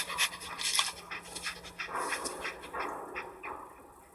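Dog companion panting in the Fallout 4 video game, a run of short breathy puffs with faint whimpers, close and fairly quiet over a low steady hum.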